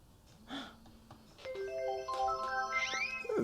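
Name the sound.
phone ringing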